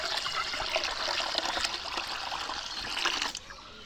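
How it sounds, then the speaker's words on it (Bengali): Water from a pot is poured into rice starch with salt for goat feed, making a continuous close splashing trickle that stops abruptly near the end. "এই ভাতের মারে আমি পানি অ্যাড করব সাথে লবণ দিছি"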